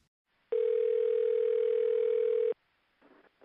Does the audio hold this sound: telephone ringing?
yes